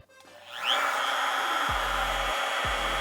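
A wood router fitted with a Futures fin box router bit spins up from rest to a loud, steady high-pitched whine that continues without a break, alone with no voices.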